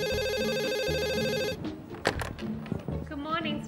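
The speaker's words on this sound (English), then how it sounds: "Office Phone." Office telephone ringing in a steady electronic bell pattern for about a second and a half, loud and close, then it stops and a voice answers.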